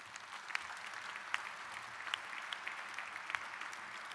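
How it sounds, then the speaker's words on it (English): Steady applause from a full banquet room at an awards gala, fairly distant and even, with occasional sharper individual claps rising above the wash. "give them a round of applause, please"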